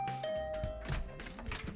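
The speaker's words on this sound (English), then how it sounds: "I rang the bell by the side of the door." Doorbell by the side of a dormitory room door in the video game The Hundred Line: Last Defense Academy, a two-tone ding-dong chime followed by soft thunks and faint background sounds.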